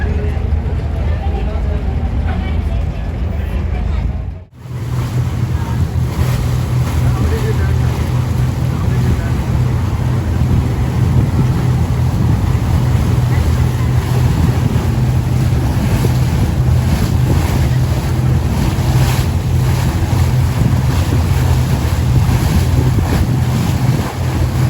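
A boat ride at night on the water in Deira, Dubai, carries steady engine rumble, wind buffeting and sloshing water, loud and continuous after a brief dip near the start, with voices faintly present.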